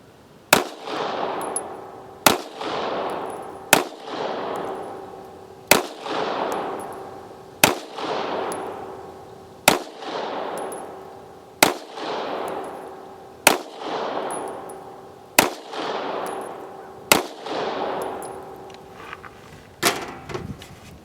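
Budget full-size 9mm pistols such as the FXS9 fired at an outdoor range: about a dozen loud, sharp shots, each with a long ringing echo decaying behind it, spaced evenly roughly two seconds apart.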